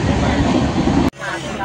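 The Konkan Kanya passenger train pulls into CST in Mumbai with a loud, steady rail rumble that cuts off abruptly near the end, with a voice talking over it.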